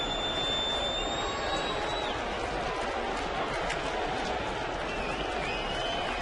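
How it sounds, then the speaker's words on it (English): Sellout crowd of nearly 50,000 at a Red Sox–Yankees baseball game in the bottom of the ninth, a steady, loud, wide roar of voices with scattered cheering and clapping throughout. "Sellout crowd here at the stadium,"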